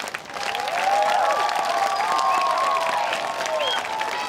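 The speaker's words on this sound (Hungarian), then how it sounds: "a végén pedig óriási tapsal zárták a produkciót" Loud, sustained applause and crowd noise from passers-by at an outdoor school dance performance on a town square, dense clapping with scattered cheers running steadily throughout.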